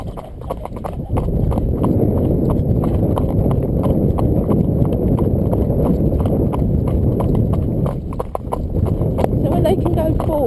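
Horses trotting in a training session, with steady rhythmic hoof clip-clops from several animals close by and a constant low rumble of movement, running on without pause.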